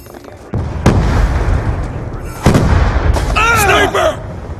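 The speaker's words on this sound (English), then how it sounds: "Grenade!" Two loud booming blasts from a grenade in a first-person shooter game, the second followed by a shouted voice, over a steady rumble of battle noise.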